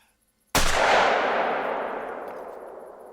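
A single shotgun blast in the hunting game Call of the Wild, a sharp loud crack after half a second of near silence, followed by a long echoing tail that slowly fades out.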